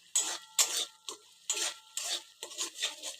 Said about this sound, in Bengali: সব মশলাগুলোকে একবারে ভালো করে কষিয়ে নেব